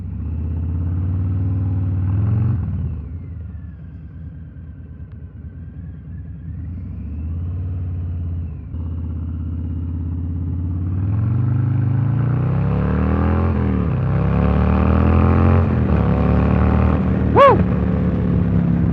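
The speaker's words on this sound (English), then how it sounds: "As you can see, this bike rides good. It's got plenty of torque, plenty of power." A pre-owned Harley-Davidson Fat Bob with a 114 engine rumbles deep and steady while riding, its pitch rising and falling through gear changes before revving harder near the end.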